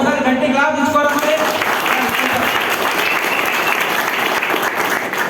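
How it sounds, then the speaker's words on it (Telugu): An audience at a Vestige business plan seminar in Hyderabad applauds loudly and steadily for the whole stretch, a dense wash of many hands with a voice briefly audible at the start. "ఒకసారి గట్టి క్లాప్ తీసుకోవాలి."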